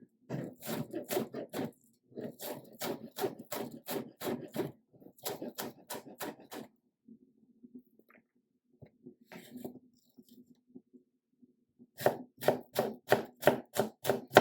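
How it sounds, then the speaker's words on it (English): Knife blade chopping a shallot finely on a board: quick bursts of sharp, rhythmic taps close up, pausing briefly partway and then resuming at a brisk pace. "So now we do our best to cut the shallot as fine as we can."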